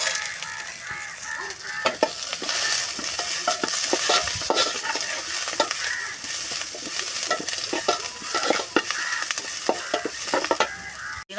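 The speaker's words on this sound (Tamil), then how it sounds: "பீஃப் செய்யறதுக்காக தக்காளி வெங்காயம் பச்சை மிளகா மிளகு ஜீரகம் சோம்புலாம் முசை போட்டு வதக்கி" Tomatoes and onions with green chilli and spices sizzle steadily in a hot pan for beef masala, with a spoon scraping and stirring in frequent clicks and scrapes close by, no talking.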